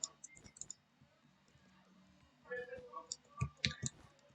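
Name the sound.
rapid mouse clicking while playing Bedwars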